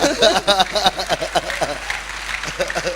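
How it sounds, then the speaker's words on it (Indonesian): A crowd claps along in bursts while someone speaks loudly over the applause. "Yeah, you can clap, you can clap."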